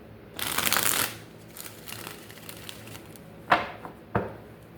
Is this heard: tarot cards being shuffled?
yes